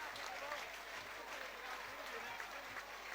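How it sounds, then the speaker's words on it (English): Sustained applause from a football stadium crowd of several thousand at a Peterborough versus Southampton match, a dense steady wash of clapping, with a commentator's voice audible over it. "And the players taking the accolade of the crowd."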